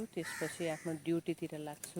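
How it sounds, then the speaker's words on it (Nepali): Crows caw repeatedly beside Phewa Lake in Pokhara, their harsh calls mixed with and partly under someone speaking close to the microphone. "यता कागहरू यस्तरी कराइरहेछ है।"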